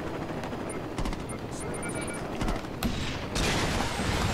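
Gunfire crackles in bursts while a helicopter hovers in Saints Row 2, with rapid shots, mechanical clanks and a rising rotor drone growing louder toward the end under occasional beeping.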